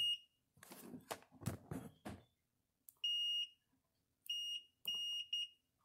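A digital multimeter on continuity test gives sharp, high-pitched electronic beeps, three short bursts heard alone and close, after a stretch of handling and scraping noise as the probe leads are touched together.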